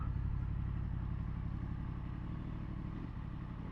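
Yamaha MT10 motorcycle engine under way on a coastal ride, a continuous loud mid-pitched drone that holds steady throughout with a slight dip near the end.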